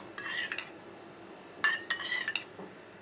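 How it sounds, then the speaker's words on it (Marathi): A spoon scrapes and clinks against a bowl while mixing grated beetroot and carrot with salt and curd, two short bursts of close stirring separated by a brief pause. "व्यवस्थित असं मिक्स करून घ्यायचं"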